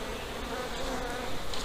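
Dense, steady insect buzz of honeybees in a hive in December while they feed on a candy board, a continuous close drone that holds at an even level throughout.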